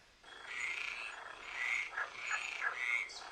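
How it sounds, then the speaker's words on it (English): Repeated trilling frog croaks, several rising and falling calls in a steady rhythm, clear and fairly close against a quiet background. "Let's maybe find something unusual, like a frog."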